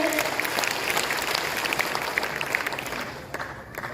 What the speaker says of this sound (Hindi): एक जोरदार ताली चाहते हैं